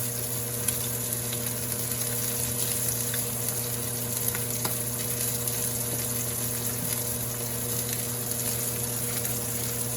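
Pork chops with rosemary fry in a pan, giving a continuous, even sizzle with faint crackles and a steady hum beneath, close and moderately loud with no talking.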